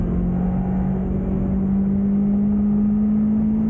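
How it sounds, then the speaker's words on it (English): A Caterham's side exhaust drones in a steady, loud, low engine hum under acceleration, heard close and continuous without speech. "the sound coming from the side exhaust is just"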